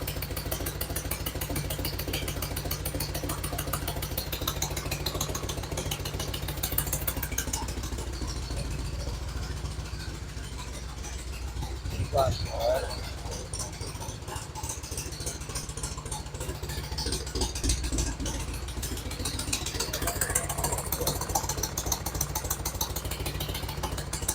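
A 1965 Harley-Davidson FL Panhead running with no fuel tank fitted, settled into a steady, loud idle with a low rumble that holds throughout, with only slight swells in level.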